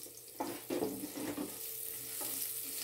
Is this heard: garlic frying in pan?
yes